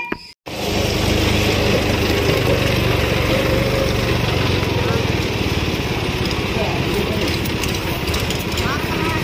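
A small toy tractor whirring with a steady motorized buzz, close and continuous after a brief click at the start.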